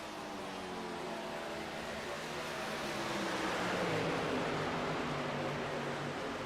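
Racing truck engine at Daytona superspeedway in a racing video game, giving a steady, buzzy, lawnmower-like drone that holds at an even level throughout, with no talking.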